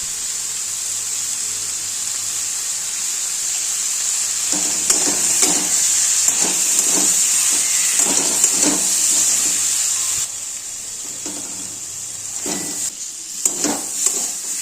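Food in a pan sizzles steadily after the lid comes off, then a spatula stirs it in a series of close scraping strokes over the hissing frying, with no one speaking.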